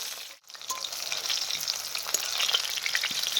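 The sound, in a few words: potatoes frying in a pan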